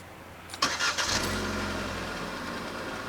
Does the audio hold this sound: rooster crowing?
no